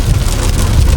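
Rain falls steadily during a car road trip, a dense hiss of drops with low road rumble underneath, loud and continuous for a moment.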